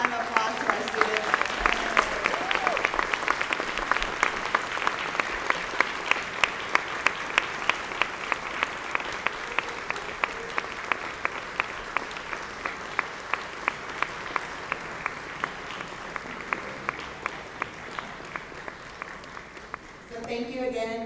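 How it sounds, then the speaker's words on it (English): Sustained audience applause for students at an award dinner, a broad, dense clapping wash lasting about twenty seconds with sharp individual claps standing out, steady throughout and tapering slightly near the end. "So please give a round of applause to our students."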